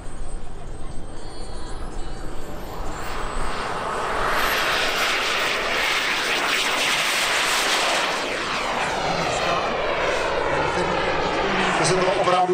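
A thrust-vectoring jet flies air show maneuvers at Jets Over Czech 2018 at Czech Heaven airfield near Ivančice, its engine roar swelling from a distance into a loud sustained rush that sweeps past and lingers.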